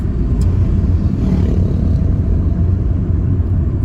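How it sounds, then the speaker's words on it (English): Kia Picanto EX 1.2L hatchback from 2018 driving on mountain roads, a steady low engine and road rumble continuing throughout the cabin with no talk. "Now I'm driving back to KK with my Kia Picanto, and I'm really enjoying the drive."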